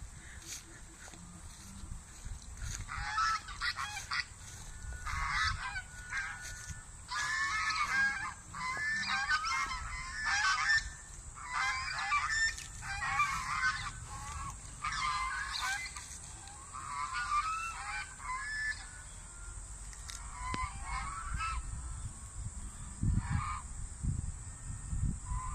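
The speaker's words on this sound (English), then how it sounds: "And now a lot of geese." Many geese honking repeatedly in a noisy flock in a park, calls overlapping at a moderate distance, with some faint background voices.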